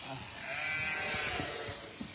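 A sheep bleats during shearing on a farm, the call rising as a few wavering, close, moderately loud cries over steady background hiss.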